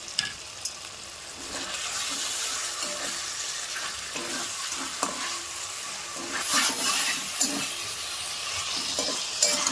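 Fried fish pieces stirred into a masala gravy in a pan, an ongoing close sizzle broken by scraping spoon strokes and soft knocks against the pan.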